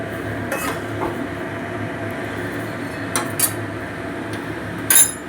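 Spices sizzle and fry in oil in a pan for a Bengali pumpkin-greens dal dish, with a steady close crackle and a few sharp metal clinks as a spoon stirs and scrapes against the pan.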